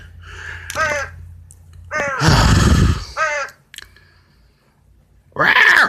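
A crow caws loudly and close in several harsh, drawn-out bursts separated by short pauses, with a low rumbling noise under one call.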